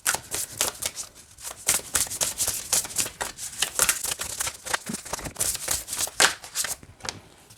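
Animal Spirit Oracle cards riffled and shuffled in quick repeated bursts of crisp, papery flutters, close up with no talking.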